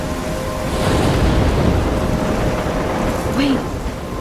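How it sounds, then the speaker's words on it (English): A thunderstorm in the game Life Is Strange, heavy rain with a deep thunder rumble swelling through the middle. It is a loud, dense wash, joined by a brief higher tone near the end. "I'm trapped in a storm?"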